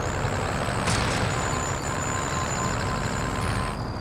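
A vehicle driving in Call of Duty: Modern Warfare, a steady loud engine rumble with road noise and a thin high whine running throughout, with no speech.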